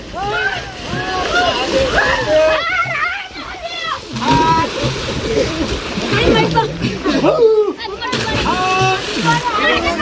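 Water splashes and sloshes repeatedly nearby as people throw water during a Jal Jhilani Ekadashi festival ritual bathing of a deity, while a crowd shouts and talks loudly throughout.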